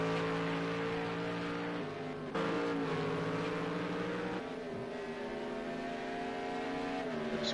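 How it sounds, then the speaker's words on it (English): GT1 race cars at the Hockenheim circuit drone steadily with layered engine tones, pitch shifting as they shift gears and pass, a loud continuous roar with no voices. "You just hear the engines sometimes."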